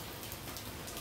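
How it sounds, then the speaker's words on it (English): Light, drippy rain falling outdoors, a steady close patter of drops filling the whole moment with no voices or other sounds. "I'm enjoying my coffee out here in this little drippy rain"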